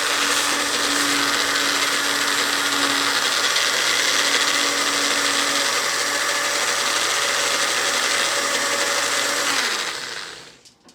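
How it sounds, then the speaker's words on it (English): A blender runs steadily on a thick tofu cake mixture, a loud continuous whirring motor with no voices, holding constant for about ten seconds before winding down and stopping at the end. "Transfer to a blender until it has a nice, thick consistency."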